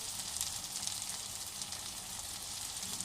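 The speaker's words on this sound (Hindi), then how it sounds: "ये आपने इसको अच्छी तरह भूनना है, भूनते रहना है।" Maghaz masala, a spiced brain fry, sizzles steadily in a pan, a dense continuous hiss of frying with no talking over it.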